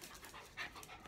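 Dogs panting rapidly at close range, a quick rhythmic huffing breath that runs throughout the short moment, soft and alone.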